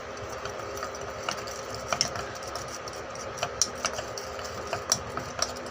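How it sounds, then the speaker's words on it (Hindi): Clothing soap ingredients are stirred together in a container, giving a continuous scraping, clinking churn with small ratchety clicks that rise and fall at a moderate level, with no talking. "ये हम इसके अंदर डालेंगे और फिर हम इसको अच्छी तरह से मिक्स कर देंगे।"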